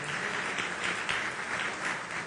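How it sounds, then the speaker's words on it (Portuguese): Applause from an audience at an event in São Paulo honoring the president of the state Solidarity Fund, a steady wash of many hands clapping, moderately distant, with no talk over it. "Pedir uma salva de palmas para Mônica Serra, nossa querida Mônica Serr"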